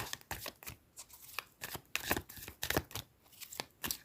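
Tarot cards being shuffled by hand for a love reading, a run of soft, papery riffles and slaps repeating in uneven bursts, close and fairly quiet with no talking.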